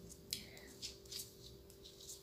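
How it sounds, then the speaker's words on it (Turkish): Scissors snipping yarn while hand-knitting a garter-stitch cardigan, a few short, soft cuts spread across quiet moments under a steady low room hum. "Beşinci kez kesiyorum."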